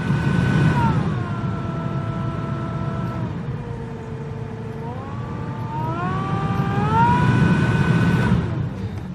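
A Honda Civic blower motor runs loudly and steadily during a test, its whine shifting up and down in pitch as the fan speed is changed.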